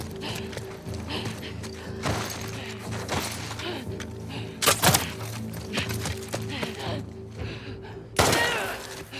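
A gunshot fired in The Last of Us Part II Remastered on Grounded difficulty, a sharp loud crack that stands out twice over a busy, mechanical game soundscape.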